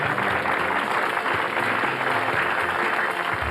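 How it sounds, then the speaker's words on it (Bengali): Steady, dense audience applause from a crowd at a live entertainment show welcoming film stars onto the stage, sustained clapping filling the whole stretch at an even, loud level. "সবাই হাততালি দিন।"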